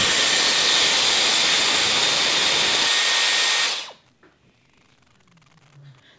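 A Dyson Airwrap hair styler blows a loud, steady rush of air for about four seconds, then cuts off abruptly, leaving near silence with faint room noise.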